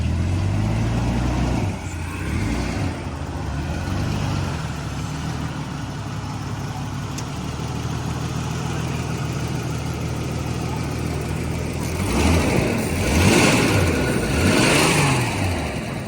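Crashed Ford Falcon EB car engine running steadily on a drive, with louder revving bursts toward the end, heard close and continuous with road and wind noise.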